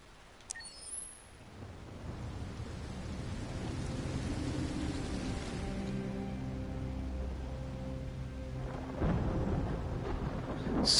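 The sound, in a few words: stormy night thunder and rain in video game Nobody Becomes Human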